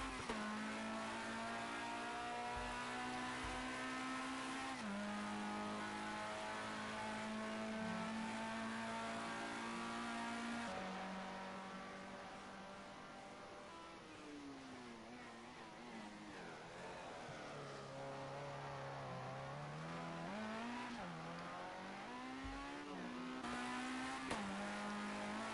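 Race car engines in a 24-hour Le Mans endurance racing video game drone loudly and steadily, with the pitch climbing and dropping through gear shifts and a brief tire squeal, heard alone throughout.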